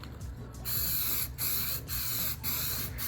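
A clear coat is sprayed onto laser-engraved painted canvas in a cross pattern: a steady, close aerosol hiss broken by short gaps between passes, with no voices.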